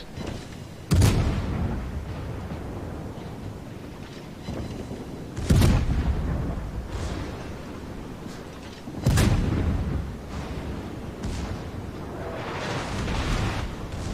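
Naval guns booming in World of Warships, with heavy blasts roughly every few seconds, each followed by a long rumbling decay over a steady background of battle noise.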